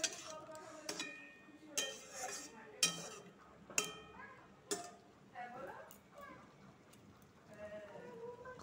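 Spice paste being stirred with pointed gourd in a pan, with quiet metallic clinks and scrapes of a utensil against the pan recurring roughly every second while a person talks over it.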